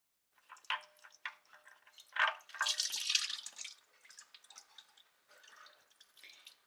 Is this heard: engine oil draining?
yes